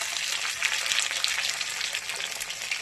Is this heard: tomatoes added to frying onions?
yes